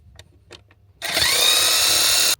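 A power tool whirs steadily as it backs bolts out of a Cummins engine that failed right after purchase, starting loud and abrupt after a second of quiet shop noise and running continuously for over a second.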